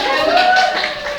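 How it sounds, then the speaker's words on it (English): A brief burst of classroom applause, a dense patter of many hands clapping together for a pupil, steady and fairly loud for about a second. "We'll give her a round of applause."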